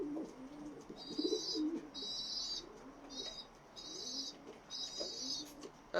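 Racing pigeons coo repeatedly in soft, rolling low phrases. A high-pitched bird chirp recurs in regular bursts alongside them, and the whole scene is fairly quiet and close.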